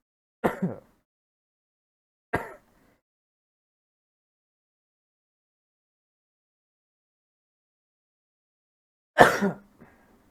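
Three separate coughs from one person during a live online discussion, close and sharp, with long silent gaps between them and no talking.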